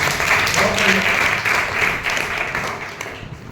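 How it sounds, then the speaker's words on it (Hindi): Classroom of Class 9 geography students clapping together in a steady, fairly loud burst of applause that carries through the whole stretch, with a little voice mixed in. "ताली बजाओ इसके लिए।"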